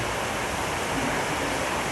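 Steady, dense rain hisses without pause outside a garage, a broad even wash of falling water close by, with no voices.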